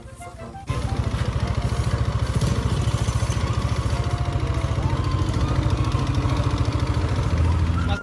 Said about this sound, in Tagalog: Ang kakaibang tunog ng iyong motorsiklo.